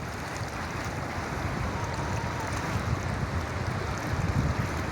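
A fast, forceful river rushes past in a steady, broad roar of churning water, with gusts of wind buffeting the microphone and no voices.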